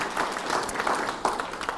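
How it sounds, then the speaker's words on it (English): An event audience applauds its sponsors at a Chanukah in the City celebration in Melbourne, a dense, steady wash of many hands clapping from a crowd throughout the short stretch. "Could we have a round of applause for all of our sponsors that enable this to happen?"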